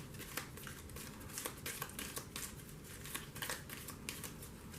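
Star Trek CCG playing cards are shuffled by hand on a tabletop, producing a quiet run of rapid papery riffling bursts in an uneven rhythm, with no talking.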